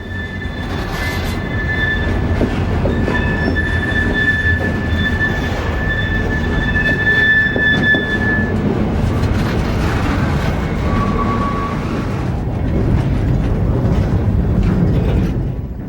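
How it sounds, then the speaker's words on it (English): A freight train with more than a dozen mechanical reefers, their diesel refrigeration units running, rolls down a city street. It makes a loud, steady rumble with high wheel squeal tones ringing over it for most of the pass. "More than a dozen mechanical reefers are in the consist, and many have their diesel refrigeration units running."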